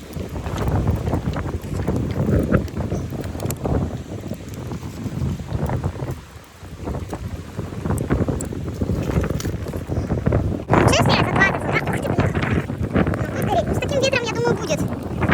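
Strong wind buffets the microphone on a beach beside dying campfire embers, a loud, continuous roar with gusting swells throughout while someone talks over it.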